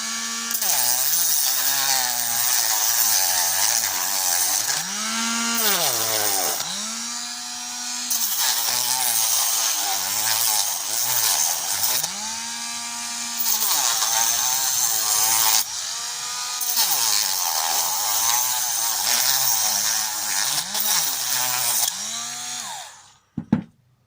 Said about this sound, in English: I'm going to sand that all the way down.